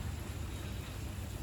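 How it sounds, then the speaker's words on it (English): Rain falls steadily on a farm, a dense, even hiss of drops with a low rumble underneath, continuous and unbroken, with no voices. "when it's raining like it is today, I'm a very happy man."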